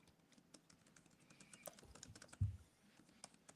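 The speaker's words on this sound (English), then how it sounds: "What are you typing in, Carl?" Typing on a computer keyboard, a quiet scatter of irregular key clicks with one heavier thump midway, close and faint with no talk.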